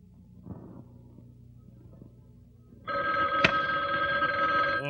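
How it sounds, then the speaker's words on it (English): An old-timey telephone bell ringing in a 1954 TV show, heard as a loud, continuous electric jangle that starts partway through and rings on to the end, after quieter background sounds. "imagine having one of those old-timey phones next to your head"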